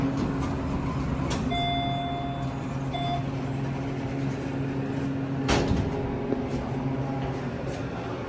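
A generic hydraulic elevator creeps to level at a floor, with a steady low motor hum throughout, short electronic beeps early on and a muffled thump midway.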